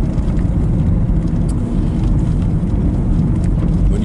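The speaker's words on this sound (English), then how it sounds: "drive on roads like this, which are muddy" A car driving along a muddy road, its engine and tyre rumble forming a steady, loud low drone throughout with no talking.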